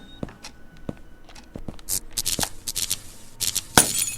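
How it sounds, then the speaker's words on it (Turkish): In a Turkish horror video game, a quick series of sharp cracks and rattling bangs as a lamp bursts and a door slams, in short irregular bursts, fairly close. "İblis lambayı patlattı ve kapıyı örttü"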